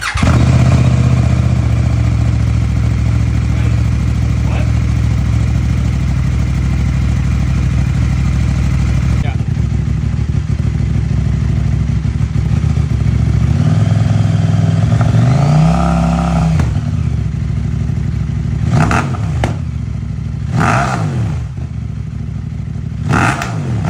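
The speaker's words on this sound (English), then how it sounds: "I'll insert a clip here of what the bike sounds like with no muffler" A CFMoto Ibex 800 motorcycle engine runs with no muffler, idling loud and close with a raw, throbbing tone. It revs up sharply once partway through, followed by a few quick throttle blips.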